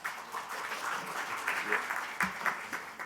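Applause fills a parliamentary forum on special city legislation, a steady crowd clapping for about three seconds with a murmur of voices beneath it.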